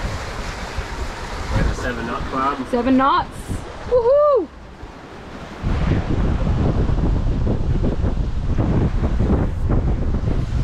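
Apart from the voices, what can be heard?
wind gusts while sailing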